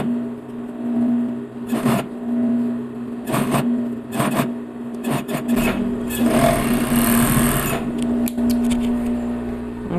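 A sewing machine stitches the seams of a bikini bottom in several short, rapid bursts separated by pauses, with rustling fabric in between, close and moderately loud.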